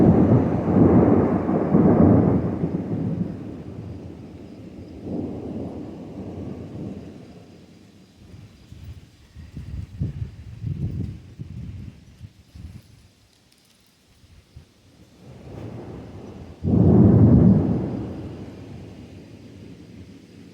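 Thunder from a nearby summer storm with lightning over a humid rural homestead, loud deep rolling rumbles swelling and fading in long waves, with a heavy crack near the end, no voices.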